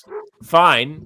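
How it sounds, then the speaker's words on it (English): Dogs bark at trick-or-treaters at a house, sharp yips and a drawn-out yelping bark close by, mixed in with someone talking. "I'm going to again apologize for the barking dogs because there are trick or treaters at the house."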